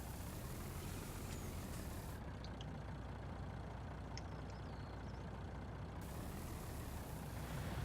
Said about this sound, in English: we had to get this truck right over to the field